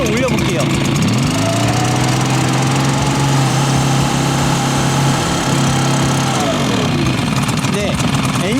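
The small engine of a Kama HD-999 leaf blower, overfilled with engine oil and smoking, roars loudly, its pitch climbing as it revs up, then holding a high buzzing whine before dropping back down.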